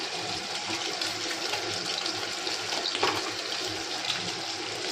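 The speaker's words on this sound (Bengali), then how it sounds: "এই আওয়াজে চিমনির আওয়াজ হচ্ছে বন্ধুরা" A kitchen chimney exhaust hood runs while fish fries and tea heats, producing a steady, fairly loud broadband rushing hiss that holds evenly throughout without pauses.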